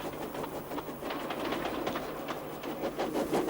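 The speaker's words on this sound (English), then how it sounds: "he was pulling a dirty freight train" A train rumbles along the rails with a faint rhythmic clatter, steady and moderately distant, with some light chirping in the background.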